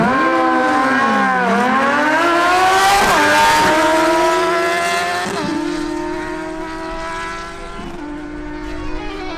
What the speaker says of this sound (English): The next duel is between Christian Alcala on his Suzuki GSX-S750 and Wilson Penzo on his Suzuki GSX-R1000.